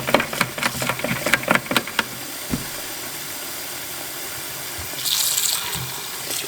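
Water runs into a sink to rinse soaking black walnuts, with clattering splashes and knocks at first, then a steady running stream and a brief louder gush near the end.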